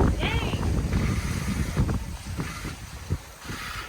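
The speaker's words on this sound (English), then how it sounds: "And we are under sail, going around the legendary Point Conception. And the seas are still lumpy." A sailboat under sail rounds Point Conception in wind and lumpy seas, with steady rushing water and wind noise, occasional knocks, and people talking and calling out over it.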